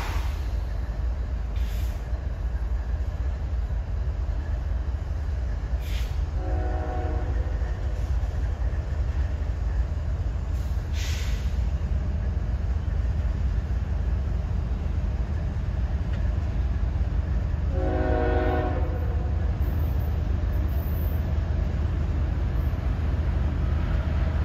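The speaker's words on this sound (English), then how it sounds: "All I know is it's an eastbound grain train." An eastbound freight grain train rolls past at Thurmond with a steady, loud rumble of wagons throughout, and two brief horn-like tonal blasts stand out midway and near the end; no talking.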